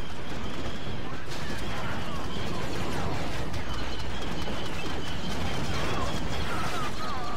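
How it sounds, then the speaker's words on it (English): Blaster gunfire in the video game Star Wars Battlefront 2 with a Clone Wars Kamino mod, dense continuous volleys of shots and crashes in a busy battle din. "You can't shoot me from all the way over there without missing a bunch of times."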